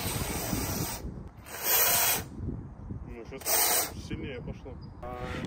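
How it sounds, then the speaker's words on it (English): Expanding foam sprays from a nozzle onto cardboard in three short hissing bursts, loud and close, while someone talks between them during a flat-roof solar mount installation. "Now we need to spray some foam on the cardboard to make sure it's mixed well in the nozzle."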